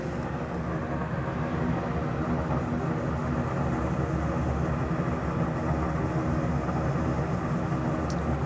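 A wood lathe is slowed down while an Alumilite faux pinecone box is sanded with 180 grit paper. It gives a steady, even mechanical drone with a low hum underneath, close and unbroken, with no talking.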